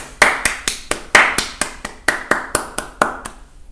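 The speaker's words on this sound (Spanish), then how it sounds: "démosle un fuerte aplauso" Applause for a guest comes as a series of about fourteen sharp, evenly spaced claps, crisp and close, with no voices.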